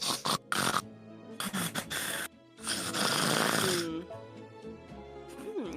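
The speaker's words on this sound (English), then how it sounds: "you're gonna just hear snoring" A video game character snores loudly in repeated heavy rasping bursts with gaps between breaths, with voices talking over and around it.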